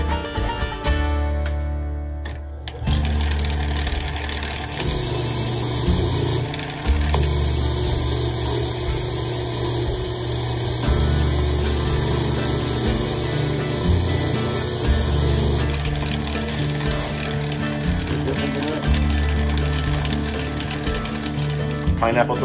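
A wire wheel grinds against a forged bottle opener in a smithy, a steady loud whirring scrape running continuously with shifts in pressure, while a voice talks intermittently over it.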